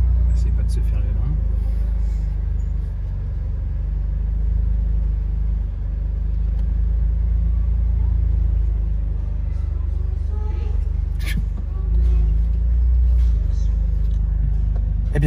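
A BMW M2 CS engine rumbles while driving on the road, a loud, steady low drone that swells slightly at times, heard from inside the car, with occasional speech over it.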